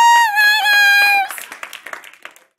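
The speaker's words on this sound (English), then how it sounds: "Big round of applause." A loud sustained tone cuts off into a short round of applause from a small group at an evening writing event, the claps scattered and thinning out within about a second.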